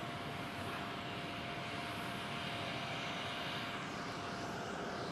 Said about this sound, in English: Very nice, KLM 747 pushing back.